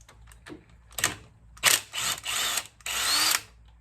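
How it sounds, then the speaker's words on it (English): A powerful impact gun undoes 12 mm bolts on the clutch slave cylinder of a Yamaha Venture or VMax motorcycle: several short, loud rattling bursts of hammering, close by, with brief pauses between them and no talk. "I'm only using the impact to undo the bolts."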